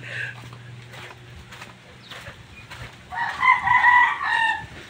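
Chickens cluck and a rooster crows on a rural site during stone hauling, low clucks at first, then a loud crow near the end, with faint voices around.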